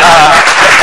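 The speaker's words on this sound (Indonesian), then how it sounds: "tepuk tangan dulu" Applause from a studio audience on an Indonesian talk show, a brief, dense burst of clapping that stays steady for under a second.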